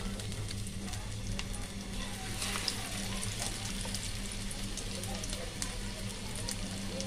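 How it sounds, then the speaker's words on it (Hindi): Shami keema tikiya patties fry in hot oil in a pan, giving a steady close sizzle and bubbling with occasional louder crackles, with no talk over it. "दूसरी भी डाल देते हैं हम, ये दूसरी भी तल लेते हैं"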